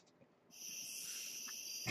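Cricket chirping played from a soundboard starts abruptly and continues as a steady, high, shimmering trill, moderately loud and alone over faint background noise.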